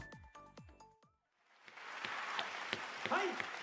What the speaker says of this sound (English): We can hear the clapping for Hinata.